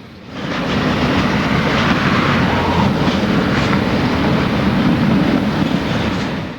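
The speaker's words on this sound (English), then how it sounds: "A westbound freight passes Alto Tower in Altoona, starting into the grade up the mountain to Gallitzin." A westbound Conrail freight train rolls past Alto Tower in Altoona, Pennsylvania, starting up the mountain grade toward Gallitzin. It makes a loud, continuous rumble with wheel clatter, fading in and out over several seconds.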